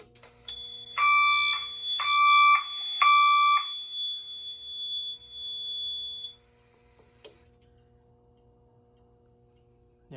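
Notifier AFP-200 fire alarm panel sounding after a smoke detector trips: three bursts of a shrill two-tone electronic warble followed by a sustained steady beep, then a sharp click and quiet hum.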